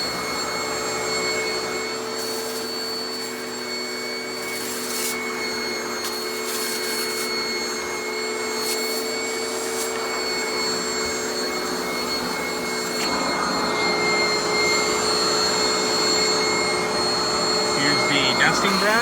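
A Garry Ultralight GL100 upright vacuum cleaner, an Oreck XL knockoff, runs with a loud, steady motor whine and airy roar that holds level throughout, brightening slightly near the end.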